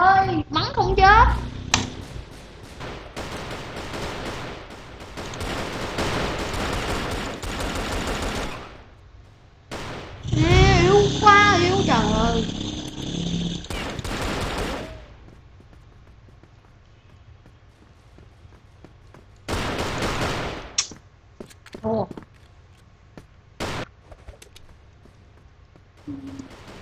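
Dual Colt pistols fired in the shooter game CrossFire, with bursts of rapid gunshots, a dense louder volley in the middle and scattered single shots later, mixed with game effects and a voice speaking.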